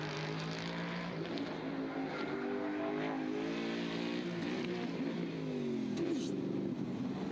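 A misfiring race car engine, flames coming from the exhaust, drones steadily with an uneven, wavering pitch that sags and stutters rather than pulling cleanly, loud and close throughout.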